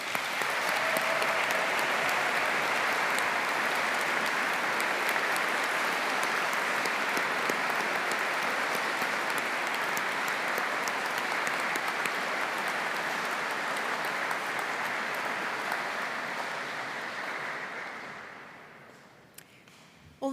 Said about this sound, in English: So please could you give a huge round of applause to our university staff.